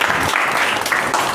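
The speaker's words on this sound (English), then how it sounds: "Clap for Sandeep." A small group claps for a speaker: a brief, dense burst of close, continuous applause that lasts just over a second.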